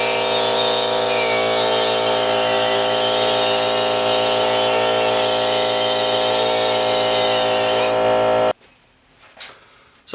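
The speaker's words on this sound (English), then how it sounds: "So I had to use the die grinder." A die grinder screams at a constant high pitch while grinding off a rivet head on a 1967–1972 Chevy or GMC pickup frame, running loud and steady before stopping abruptly, leaving a quiet tail with faint clatter.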